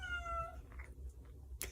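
A cat meows clearly and close by, a drawn-out rising then falling cry, followed by faint rustling and a sharp brief noise near the end over a low outdoor rumble.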